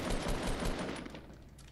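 Rapid automatic gunfire in Fortnite Battle Royale, a fast dense burst of shots that fades out over under two seconds, fairly quiet, with no speech.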